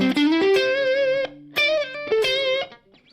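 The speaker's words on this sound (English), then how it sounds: "So I've just got a little bit of room reverb just from Logic, really." Sustained electric guitar notes played alone, rich in overtones, in a few phrases separated by short pauses, each note ringing out with a light room reverb tail added in Logic.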